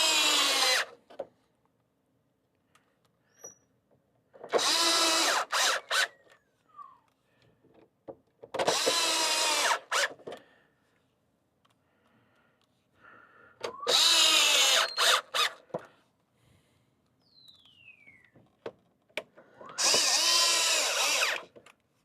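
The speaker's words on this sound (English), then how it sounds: "Let's get a couple screws in here so we can quit holding it together." Power drill driving screws into the rear panel of a 2003 Ford F250 during instrument cluster repair, five loud bursts of whirring spaced a few seconds apart with quiet gaps and small handling clicks between.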